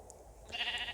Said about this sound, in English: I put the sheep